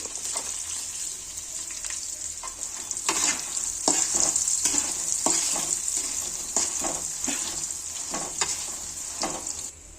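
Chana dal fries in oil with turmeric and dried red chillies, a bright continuous sizzle broken by repeated scraping stirs of a spoon against the pan, close and fairly loud.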